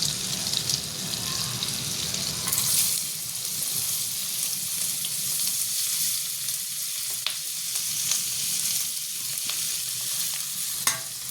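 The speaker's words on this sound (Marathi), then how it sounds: "ह्या भाज्या आपण आता परतून घेऊया आणि शिजून घेऊया थोडेसे वाफेवर" Chopped vegetables sizzle in a pan with Amul butter and cumin seeds for fried rice, giving a continuous close frying hiss with occasional stirring scrapes and light clicks, no one speaking.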